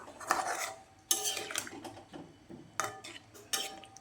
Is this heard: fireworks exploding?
no